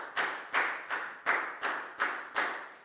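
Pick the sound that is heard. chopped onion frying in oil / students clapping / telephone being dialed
students clapping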